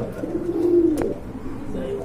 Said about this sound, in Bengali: এই যে দেখেন টোটালি আনকমন এক জোড়া কবুতর